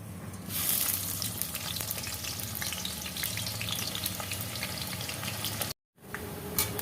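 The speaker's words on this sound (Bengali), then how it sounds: "আমি কড়ার মধ্যে সাদা তেল দিয়ে দিয়েছি পেঁয়াজটা ভাজার জন্য। আমি এবার পেঁয়াজটাকে ভেজে নেব।" Onions frying in white oil in a wok for chicken dum biryani: a continuous close sizzle with crackling pops and occasional stirring, cut off by a short silent gap before resuming.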